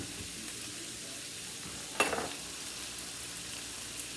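Steak and chicken with onions and garlic sizzle steadily in a stir-fry pan, a continuous close frying hiss with a brief clatter of stirring partway through.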